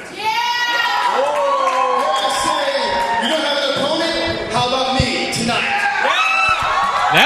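A wrestling crowd at a NAWA championship event whoops and cheers in a loud, continuous roar of many overlapping voices, while someone speaks over the noise.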